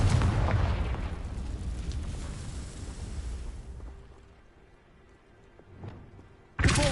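The Confringo fire spell in the video game Hogwarts Legacy bursts in a loud, deep rumbling explosion that slowly fades over several seconds, followed by a short sharp impact at the end.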